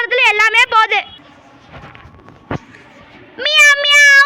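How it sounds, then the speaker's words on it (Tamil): Several loud, close cat meows in a video game in a quick cluster, a quiet pause with a single knock, then more drawn-out meowing. "ஏ ஓ வீட்ல பூனை வந்திருக்குடி"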